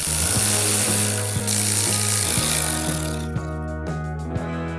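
Rhythmic ratcheting clicks from a ratchet tightening a bolt on a salvage car being rebuilt, a steady run of close, loud clicks that thins out into a few separate clicks near the end.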